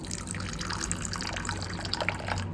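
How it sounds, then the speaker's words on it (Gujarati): Water is poured into a bowl of soaking basil seeds (takmaria) for a cooling drink, a faint, steady trickle and splash with no talking. "તો તકમરિયામાં હું થોડું પાણી એડ કરીશ"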